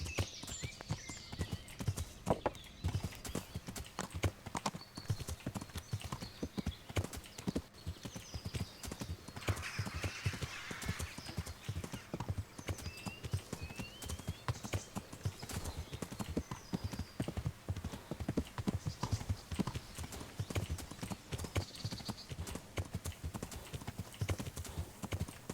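Hooves of a horse in a video game clip-clop in a steady, brisk rhythm on hard ground, fairly faint and continuous, with occasional high chirping above.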